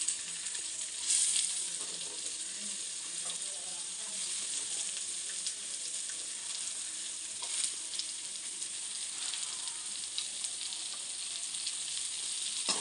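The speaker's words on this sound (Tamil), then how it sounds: "பாவக்காய் சேர்த்துட்டு நல்லா கிளறி கொடுத்துருங்க" Steady sizzling of bitter gourd frying in a pan, with occasional scrapes and stirs, continuous and fairly close, no talking.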